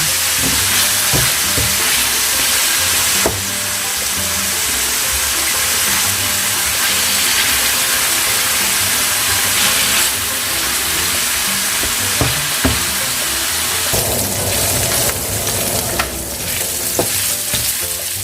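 Pork steak frying and browning in a pan, a loud, steady sizzle running throughout with scattered sharper crackles and pops, with no talking.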